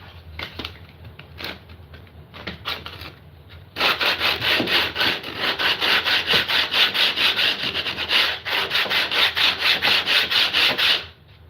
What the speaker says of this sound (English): One of those things is some sandpaper.